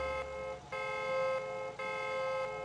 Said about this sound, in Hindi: और इसका हॉर्न भी चेक कर लूँ एक बार